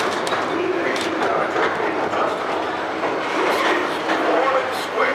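A Disneyland train rumbles along with steady rattling and clacking, people talking over it and birds faintly calling nearby.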